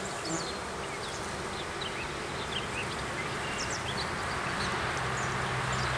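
Honey bees buzz steadily around an active beehive in spring as foragers bring in pollen, a dense continuous drone of many wings filling the air, with no voices.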